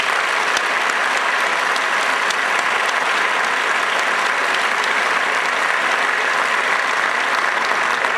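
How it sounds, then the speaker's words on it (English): A large crowd at a West Point graduate awards ceremony gives loud, continuous applause, a thick unbroken wash of clapping that holds at full strength throughout. "please join me in a warm round of applause for all our generous donors"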